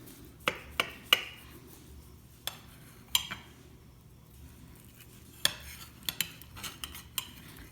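A knife slicing stuffed Spam on a plate makes sparse, sharp clinks and taps of metal against the dish, scattered irregularly over a quiet background.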